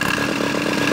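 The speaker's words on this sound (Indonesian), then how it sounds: "Kita tes, kita coba gas-gas dulu ya, biar kotoran-kotoran pada keluar." A tractor engine, recently pulled from a ditch, being revved: a loud, buzzing mechanical drone with a fast, pulsing rhythm, close up and without speech.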